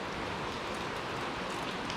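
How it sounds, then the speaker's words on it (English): Steady rain falls outside a big open garage, a soft, even hiss that holds at the same level throughout with no talking over it. "working in a big open garage like this when you can hear the rain"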